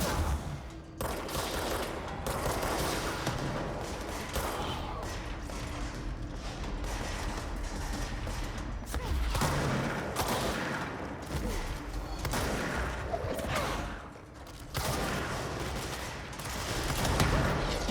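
Rapid bursts of gunfire and mechanical clatter from the video game Control sound dense and continuous, mixed with game effects and impacts at moderate loudness.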